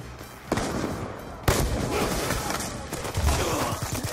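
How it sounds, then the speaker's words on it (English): Gunshots in a Call of Duty match, two sharp cracks about a second apart followed by scattered softer firing and clatter, fairly quiet overall with faint talk underneath. "I shot and then I shot again."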